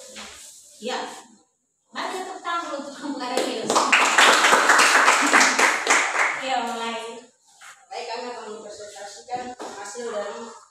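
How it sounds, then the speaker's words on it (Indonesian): Classmates in a school classroom clap for a student, a burst of many hands applauding for a few seconds, set between stretches of a teacher talking before and after. "Mari tepuk tangan dulu untuk kamu Aurelius."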